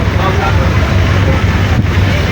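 Ferry at sea with a steady low engine rumble and rushing wake and wind noise throughout, continuous and fairly loud.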